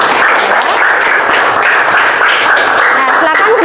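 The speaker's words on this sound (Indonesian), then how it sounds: "kasih tepuk tangan dulu untuk kelompok 3" Students in a classroom clap for a group that has just presented its discussion results, a short burst of dense, close applause with a few scattered voices mixed in.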